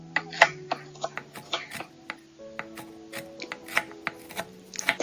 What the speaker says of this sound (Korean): 타임도 썰어서